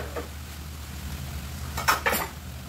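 Boiled string beans go into a cooking pan with a couple of brief clattering splashes and a soft sizzle over a low background hum, close and moderately loud.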